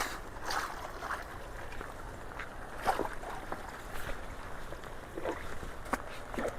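Rainwater drains into an unclogged culvert during a rainstorm, giving a soft, steady rushing gurgle with scattered splashes and small knocks nearby.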